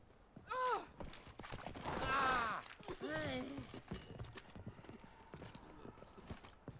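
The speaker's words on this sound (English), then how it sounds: "Giddy up. Not so fast, Roach." Horse hooves clip-clop in steady rhythm in The Witcher 3, with a few snorts and whinnies over quiet game ambience.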